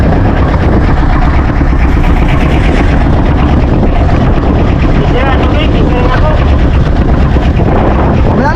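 Engine of a small bangka fishing boat drones steadily and loudly up close, a constant rough roar with wind buffeting the microphone throughout.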